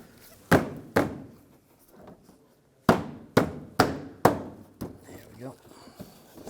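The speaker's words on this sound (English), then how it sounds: "And just push the bumper in, just clips in place." A Volkswagen Jetta bumper is pushed back so it clips into place, giving a series of sharp, close plastic thunks in two quick groups with fainter knocks between.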